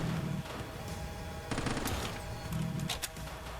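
Repeated gunfire aimed at zombies in Quarantine Z comes in short clustered bursts with brief gaps between them, under a constant game-sound backdrop and with no speech.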